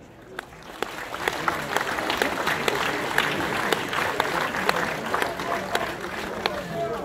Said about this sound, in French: Je vous demande d'applaudir bien fort l'ensemble des anciens de l'UVMG et leur mémoire.